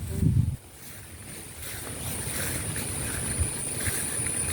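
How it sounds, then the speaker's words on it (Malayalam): Steady outdoor wind rushes past the microphone beside a curry leaf tree at a home garden, a broad continuous whoosh after a brief low thump at the start. "ഇതാ കാറ്റല്ലേ നല്ല കാറ്റ്"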